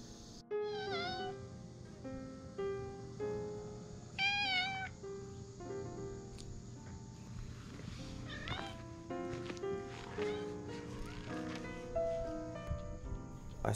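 Cats meow repeatedly in a quiet Korean village, several plaintive calls rising and falling, some overlapping, fairly close against a soft steady background.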